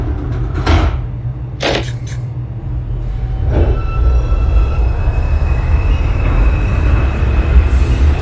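A simulated NYC Subway R142 train on a Manhattan-bound 5 local along the 7th Avenue line runs with a steady low rumble, with brief hissing bursts near the start and a thin wheel squeal rising later.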